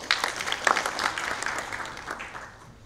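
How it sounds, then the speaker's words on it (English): A sales summit audience applauds, crisp claps bursting out together at first, then thinning and fading away over the last second. "give yourself a round of applause again."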